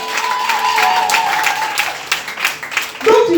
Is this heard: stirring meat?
no